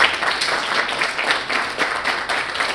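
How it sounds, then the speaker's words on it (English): An audience applauds at an evening event, a close, continuous patter of many hands clapping that holds steady throughout with no speech. "I want to show a round of applause for that."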